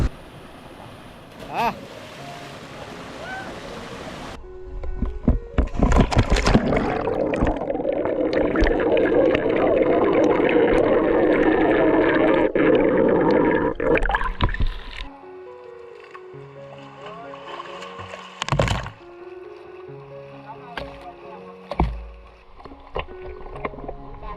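Water splashes and churns loudly for several seconds as people plunge into a village pond, followed by scattered smaller splashes and voices nearby.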